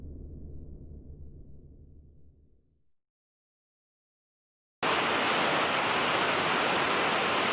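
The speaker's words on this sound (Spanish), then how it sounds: "Sigue lloviendo en Concaén." Steady rain falls in Concaén as an even, broadband hiss, loud and close. It follows a low rumbling passage that fades into two seconds of silence, and no voices are heard.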